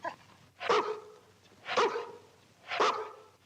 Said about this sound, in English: Oh, goodbye, Shep. Be a good dog now.